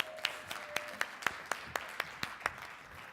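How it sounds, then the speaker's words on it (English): Sparse, evenly spaced claps, around a dozen in quick rhythmic succession, from a small number of people in a seminar audience welcoming a volunteer on stage, fairly quiet with little background. "Give her a round of applause."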